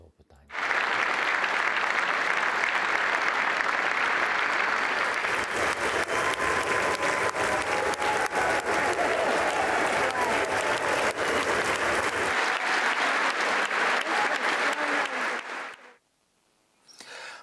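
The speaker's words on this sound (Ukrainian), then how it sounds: "всюди йому аплодують стоячи" A long standing ovation for the Ukrainian president, loud sustained applause from a large crowd that holds steady for about fifteen seconds before cutting off abruptly.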